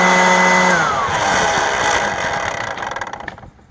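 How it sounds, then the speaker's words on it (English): A worn-out Kobalt 24V leaf blower runs with a loud, rough motor whine, its pitch sliding downward as it spins down and fades out over a few seconds. "the blower started making a noise like this"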